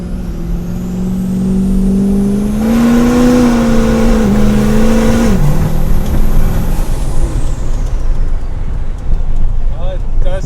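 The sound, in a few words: 1,000 horsepower truck accelerating and spinning the tires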